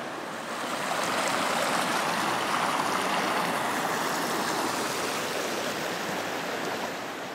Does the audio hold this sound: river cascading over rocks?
yes